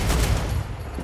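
A weapon in the video game StarRupture fires in a fast, dense burst, loud and close, filling about a second before easing off slightly.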